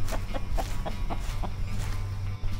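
Chickens kept for encephalitis monitoring in Merced County cluck in a quick, steady series of short, close calls over a continuous low background rumble.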